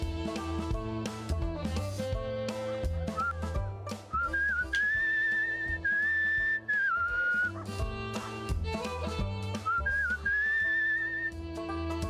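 A character whistles a melody in the video game Where the Water Tastes Like Wine, a bright sustained tune rising and falling over a steady layered musical backing, loud and continuous throughout.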